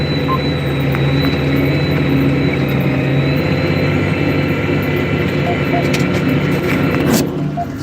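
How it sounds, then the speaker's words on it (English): A 380 HP CAT 85D tractor turning around during fall tillage, its heavy diesel engine droning steadily and loudly throughout, with a constant low rumble and some faint clanks near the end. "I gotta turn the tractor around."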